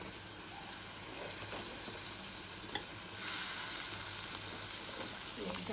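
Onion and tomato frying in a pan for a prawn dish, a steady close sizzle with stirring scrapes throughout, growing a little louder partway through; no talk.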